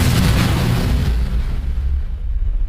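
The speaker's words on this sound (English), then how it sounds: "The zombies use their new cosmic abilities to make the planet explode," Huge sound effect of a planet exploding in a cosmic comic-style story, a loud sustained roaring blast that rumbles and slowly thins out over a few seconds.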